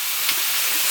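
Scallops and other food sizzle on a barbecue grill, Samoa style, a close, steady bright hiss with no talk.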